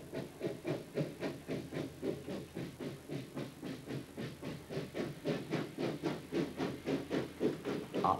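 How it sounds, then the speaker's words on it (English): A 120-ton steam locomotive runs steadily, its rhythmic exhaust chuffs repeating evenly with a hiss, moderately close. "it takes a long time to turn around a 120-ton steam locomotive."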